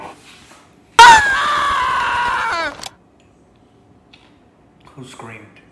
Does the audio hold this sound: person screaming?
yes